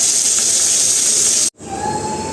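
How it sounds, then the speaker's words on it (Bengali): Fish fries in oil with a loud, dense hiss close up, cutting out for a moment before the sizzling resumes steadily. "এই তো মাছ ভাজা হয়ে গেছে, এখানে হালকা করেই ভাজছি।"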